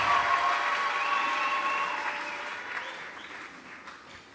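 Church congregation clapping together in a sustained burst of applause that slowly fades, no voices over it.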